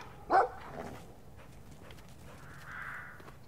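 A single short dog bark in the video game Brothers: A Tale of Two Sons, fairly faint and brief, followed by quiet ambient game sound.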